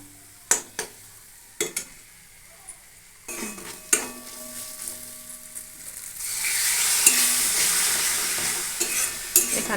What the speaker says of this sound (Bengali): অল্প পরিমাণে জল দিয়ে আমি মশলাটি খুব ভালোভাবে কষিয়ে নিচ্ছি